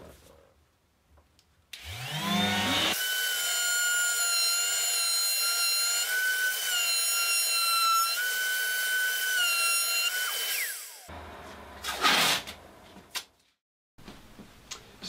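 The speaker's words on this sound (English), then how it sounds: "We can do the test again with our Festool sander this time." A Festool sander working on a board, starting with a rising spin-up whine and then holding a steady, loud tonal hum for about eight seconds before winding down, followed by brief handling noises.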